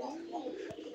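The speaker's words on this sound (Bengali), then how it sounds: "আপনারা হয়তো পায়রার ডাকটা শুনতে পাচ্ছেন" A big-sized pet pigeon from a newly paired couple gives a soft, low coo close by, a single short call over steady background murmur.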